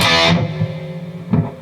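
Distorted electric guitar chugs a palm-muted open-E riff, loud and close, with heavy sustained crunch and a second accented hit near the end.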